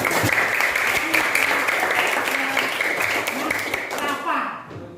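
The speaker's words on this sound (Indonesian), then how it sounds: "kasih aplaus. Tepuk tangan." Sixth-grade pupils in a Qur'an and Hadith class applaud a classmate, dense continuous clapping from many small hands filling the room, close and loud, tapering near the end as a voice speaks over it.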